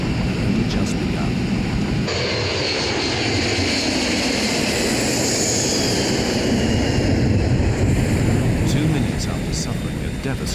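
An airliner, Flight 811, roars through a steep emergency descent after explosive decompression, a loud continuous rushing of engine and wind noise that swells and holds throughout.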